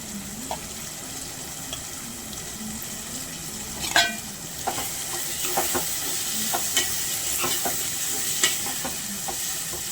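Cluster beans fry in a pan with tomatoes for a curry, a steady close sizzle with scattered crackles and pops and occasional scraping of a stirring spoon, no voices.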